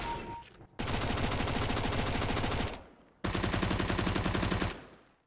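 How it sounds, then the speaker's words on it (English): Submachine gun fire from a Valve video game, in two long, loud automatic bursts of rapid shots separated by a short pause, with no voices. "Valve recently patched the submachine guns, changing their sound effects in line with the recent sound improvements to the heavy weapons"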